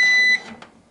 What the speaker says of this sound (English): Sorry for that beeping.